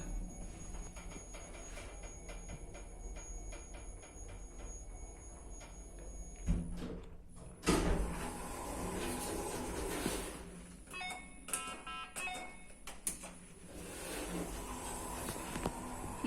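An old Pilawa elevator in a tall building in Kraków hums and rattles steadily, with clanks and a loud thump midway, followed by metallic squeals and creaking as it moves.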